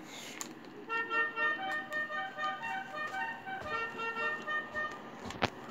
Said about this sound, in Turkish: Korna çal içeride.